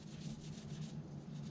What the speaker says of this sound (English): You take a carbide tool or Dremel or something, you run it around there and clean the flash off, sand it, sand the back